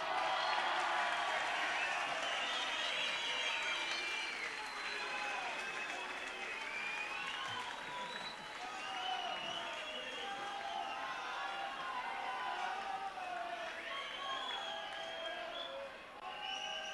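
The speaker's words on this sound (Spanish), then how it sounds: "al que sí que le vamos a aplaudir fuerte" Concert crowd at a rock show in Artsaia roars with sustained applause and cheering, a dense, loud wash of clapping and shouting that holds steady throughout with voices mixed in.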